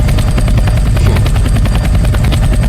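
Helicopter engine in a Roblox video game, a loud continuous rotor thrum with rapid chopping pulses, steady and close throughout with no talk over it.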